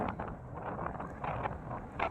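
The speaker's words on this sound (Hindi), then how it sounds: "बहुत तेज़ हवा चल रही है" Strong wind sweeps across a hilltop at Charoungh Top above Rajouri on a cold, dry, hazy day, producing a steady broadband roar with gusty swells close to the microphone and no speech.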